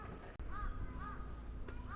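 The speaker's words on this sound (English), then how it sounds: "That noise you can hear is those massive crow things, the birds." Crows cawing at a Japanese temple, three drawn-out caws spaced roughly half a second apart at moderate distance, over quiet ambient background.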